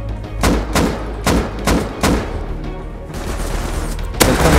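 Repeated gunshots in the video game Rust crack out in bursts, roughly five heavy booming shots spaced about a second apart, loud and close, with game-like echoes.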